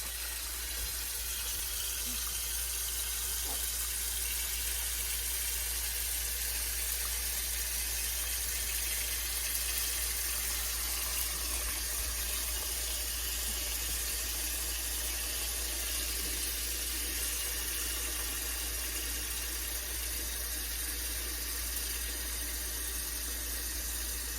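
Cold tap water runs steadily into a container for soaking dill pickles in a kitchen, a constant even hiss and rush lasting the whole stretch without pause or voices.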